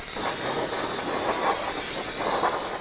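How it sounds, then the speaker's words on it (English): Aerosol parts cleaner sprayed onto the axle of a 2009-18 Ram 1500 during an emergency brake shoe job, a loud close hiss lasting the full few seconds with slight pulsing. "I'm going to use some parts cleaner."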